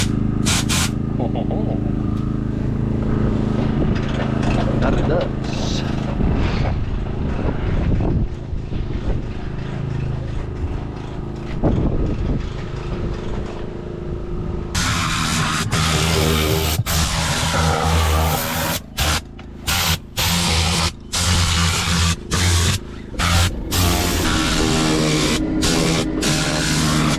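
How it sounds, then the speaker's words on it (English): A compressed-air nozzle blows dirt out of a car's carpet during mobile auto detailing in winter. A loud, steady broadband hiss dominates the second half with short breaks between blasts, while a voice and general car-interior noise fill the first half. "Let's see if air compressor wants to work today."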